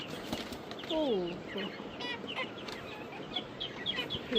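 Caged chickens cluck and squawk restlessly on a village morning, wanting to get out. Their overlapping calls are fairly quiet and nearby, with one longer rising squawk among shorter clucks.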